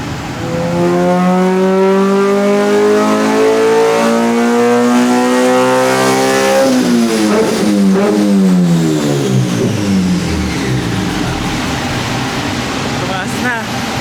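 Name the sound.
car engine revving on a dyno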